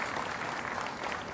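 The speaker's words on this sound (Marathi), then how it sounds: "आपल्या सर्वांना विनंती आहे की राज्यस्तरावरच्या टीमसाठी एक जोरदार टाळ्या त्याच ठिकाणी होऊन गेल्या पाहिजे." A crowd at a Mahalakshmi Saras exhibition event applauds a state-level team, a short steady wash of clapping, fairly faint and unbroken.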